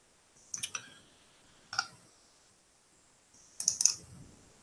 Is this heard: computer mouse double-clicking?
yes